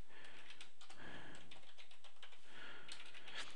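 Quiet, rapid clicks of keys on a computer keyboard as a password is typed into an EMR system, a steady run of light taps with no talking.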